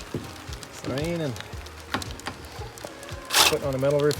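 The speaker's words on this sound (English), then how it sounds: "It's raining." Rain patters on the metal roof of an A-frame cabin under construction in the desert during a thunderstorm, a close, steady drumming broken by brief vocal sounds.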